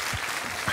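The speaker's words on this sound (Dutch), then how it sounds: "Applaus!" Brief audience applause on a Dutch children's television show about the Romans, a steady dense patter of clapping at moderate loudness with no speech over it.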